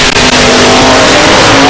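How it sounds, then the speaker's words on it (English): A Pontiac GT-class automatic drag race car at a drag strip revs hard at close range, a loud, sustained engine roar that fills the short burst with no talk over it. "Jeff Atkinson rolls in now, the Pontiac. Another one of the GTB automatic cars"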